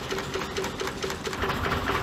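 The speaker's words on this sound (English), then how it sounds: "The rubber tubes are fed into a conveyor, where they are cut by a vertical blade, creating a familiar and functional shape." Rubber band factory machine in an Indian village, a vertical blade cutting rubber tubes fed on a conveyor, giving a steady, fast, rhythmic mechanical chatter with regular repeating strokes, loud and close.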